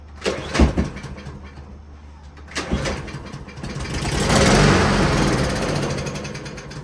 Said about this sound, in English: So you saw that it cranked over with starting fluid.